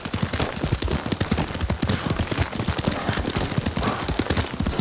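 Horse hooves clip-clop in a steady, rapid rhythm while riding in the video game Ghost of Tsushima, close and continuous, with faint background sounds and no talk.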